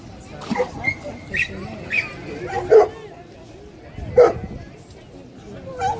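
A water-rescue dog gives short barks and yips at intervals during a rescue demonstration, sounding moderately close, with a person talking over the scene.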